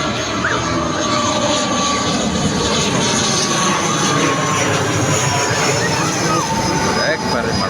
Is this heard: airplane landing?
yes